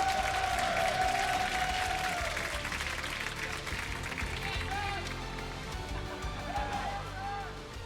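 Arena crowd noise fills a League of Legends esports match between SK Gaming and G2 Esports at the 2019 LEC Summer Split, a steady loud roar of cheering and applause with a commentator talking over it.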